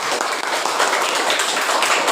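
A classroom full of pupils clapping their hands, a dense, even wash of applause that stays steady and fairly loud throughout the short stretch, with no clear speech over it.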